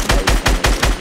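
Rapid automatic gunfire in the Fortnite battle royale game, five loud, evenly spaced shots in about a second, close and alone with no talk.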